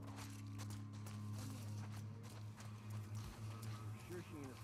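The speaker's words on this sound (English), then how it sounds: "What's riding a horse?" Horse hooves clip-clopping as a character rides in the video game The Last of Us Part II, a steady pattering of hoofbeats under dense, continuous game ambience with a low droning hum throughout.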